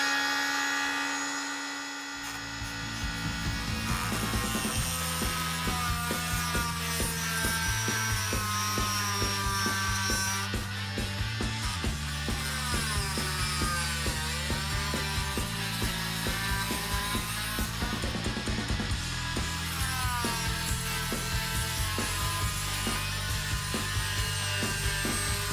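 A Proxxon power tool whines steadily at close range for the whole stretch, its pitch shifting in stepped jumps as the speed changes, with a brief quieter start.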